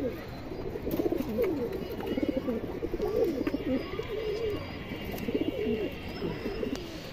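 A pair of Muslodom high-flyer pigeons cooing close by in a loft, repeated rolling coos in a steady rhythm with faint background chatter.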